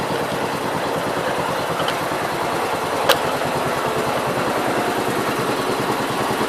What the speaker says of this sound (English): I started this tractor and I let it... It's been running since about 11:30.